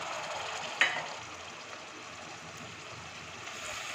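Spice paste for a spicy prawn curry sizzling steadily in a pan after a splash of spice-rinse water, with a brief sharp crackle near the start, then an even, moderately quiet hiss throughout.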